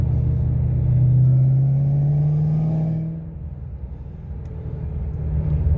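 A 2010 Shelby GT500 with a Trinity 2.3 supercharger pulls hard in fourth gear, its engine note rising in a strong, droning rumble before easing off, close and loud with no talk.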